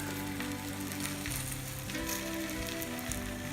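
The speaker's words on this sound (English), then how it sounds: "So now I could add my garlic." Minced garlic hitting a hot pan where braised short ribs and filet mignon are being cooked, giving a steady, dense sizzle and crackle that fills the whole stretch, fairly close and with no talking.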